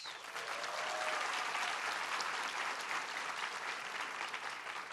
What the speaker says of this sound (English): Give Carrie a big round of applause.